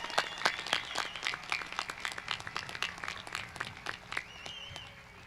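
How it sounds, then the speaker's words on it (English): Applause for the graduating class of 2022 at a graduation ceremony, scattered individual claps ringing out clearly over a few seconds, then thinning and fading toward the end. "Let's give them a round of applause"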